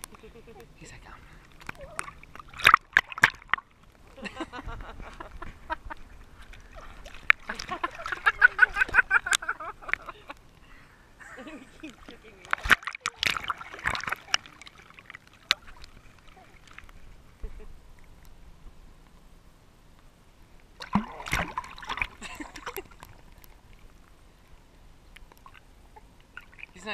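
Someone swimming in water, with intermittent bursts of splashing and sloshing separated by quieter stretches, close by, while people talk softly in between.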